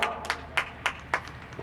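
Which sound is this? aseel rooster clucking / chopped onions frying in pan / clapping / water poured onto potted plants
clapping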